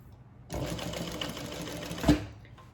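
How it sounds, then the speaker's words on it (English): Sewing machine running quarter-inch top stitching on a handbag, a single steady burst of about two seconds that ends with a soft thump, close and clear with no talking. "1/4 inch top stitching"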